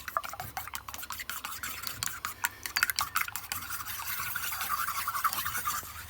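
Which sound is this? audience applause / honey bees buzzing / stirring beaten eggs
stirring beaten eggs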